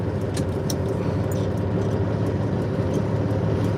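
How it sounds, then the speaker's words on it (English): A truck rumbles steadily in the background, its Jake brake giving a continuous low engine roar with a few faint clicks above it, no voices. "the Jake brake and the truck in the background is the background noise"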